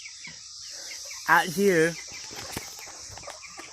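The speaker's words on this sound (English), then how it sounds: "We've got like 100 chickens." Chickens on a farm with around a hundred birds cluck softly, with one brief louder squawk near the middle over steady background noise, while a person talks briefly.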